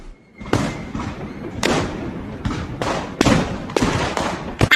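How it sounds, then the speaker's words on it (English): Fireworks crackle and bang in a series of sharp bursts and thuds outside a palace at night, with celebratory guns firing, several loud reports spaced irregularly over a few seconds. "Fireworks crackled and guns banged"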